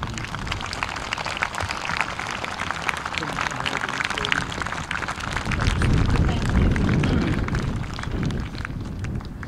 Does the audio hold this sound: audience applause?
yes